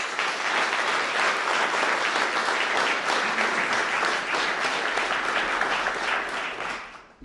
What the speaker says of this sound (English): You better get an applause after that one.